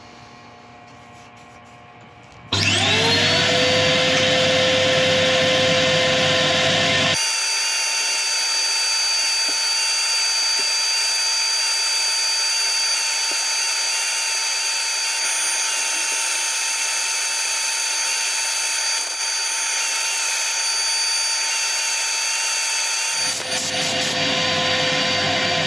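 A steady, loud whirring grind of a wood lathe spinning while an epoxy resin bowl is sanded, with a sharp start and stop, running continuously for most of the clip with no voices.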